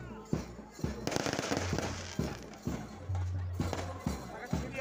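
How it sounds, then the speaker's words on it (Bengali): Fireworks at the Vidyasagar fair stage ceremony, a run of sharp crackling bangs and pops at irregular intervals over a continuous noisy crowd background. "আতশবাজি চলছে।"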